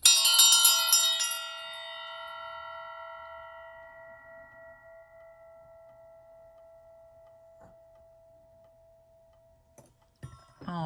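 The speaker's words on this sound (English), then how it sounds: "I'm ringing the bell" A single bell is struck once, ringing bright and loud, then its long resonant tone slowly fades with a faint ticking beneath, ending in a short bit of handling noise.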